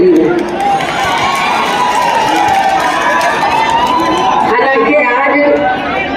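A huge crowd at a BSP political rally in Mainpuri gives a loud, continuous roar of cheering and shouting that fills the whole stretch, while an amplified voice speaks over it.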